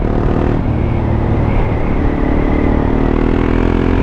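A 2017 KTM 690 Duke R motorcycle ridden and braked on the road, its engine a loud continuous drone close by with steady wind and road noise and a slight downward shift in pitch as it slows.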